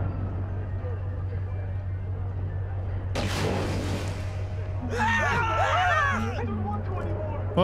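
Grenade blasts in Cyberpunk 2077: a sudden loud burst with a crackling roar that fades out, followed later by a second noisy eruption, over a steady low rumble while voices talk.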